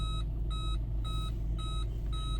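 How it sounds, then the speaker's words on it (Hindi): Rear parking sensor of a DFSK Glory 580 PRO SUV warning while reversing: a steady series of five clear, evenly spaced electronic beeps sounding alone over a low engine hum. "इसके पार्किंग सेंसर ने मुझे नोटिफिकेशन दे दिया है कि पीछे कुछ है तो अब आप रिवर्स नहीं करें"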